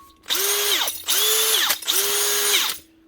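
A Makita DHP489 cordless drill spins in three short bursts while its chuck is being removed, a loud, close whir with ratcheting clicks and brief pauses between runs.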